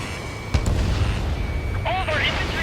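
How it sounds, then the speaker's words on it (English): In Ace Combat 7: Skies Unknown, a missile launches during jet combat, making a sharp bursting boom over a steady roar of engines and battle rumble. Brief whistling tones rise near the end. "Missile away."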